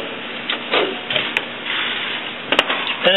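An HP Designjet T120 or T520 printer's carriage mechanism whirs and clicks as it starts moving, a steady mechanical hum with a few sharp ticks, close and fairly loud with no talk.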